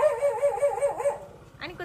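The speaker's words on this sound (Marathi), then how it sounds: "आणि कुत्रा जो भुकत आहे." A dog barks and whines in short, tonal yips close by, indoors at a Ganesh Chaturthi home celebration, ending in a brief higher yelp.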